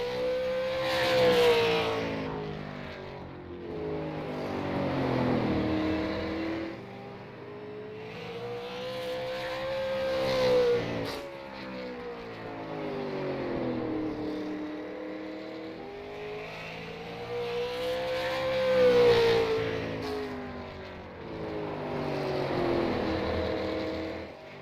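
Stock cars in qualifying at the RBR Maritime JPB Construction 150 roar around the oval, engine notes rising and falling in repeated swells as each lap passes, loud and continuous.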